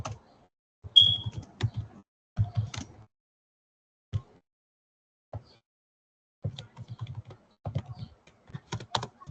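Bursts of rapid clicking keystrokes on a computer keyboard as a query is typed into a chatbot, arriving in short irregular runs separated by pauses, close and fairly quiet with no talk.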